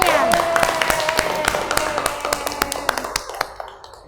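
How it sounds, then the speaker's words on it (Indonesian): A small group in a classroom counseling session claps, sparse individual hand claps that thin out and fade by the end, with some talk at the start. "Tepuk tangan semuanya"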